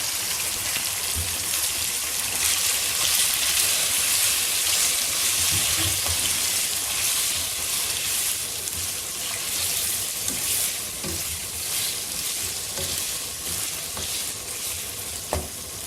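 Chicken fries in ghee with ginger garlic paste for a Pakistani chicken karahi, giving a loud, continuous close sizzle with bursts of spattering and occasional scrapes of stirring, no voices.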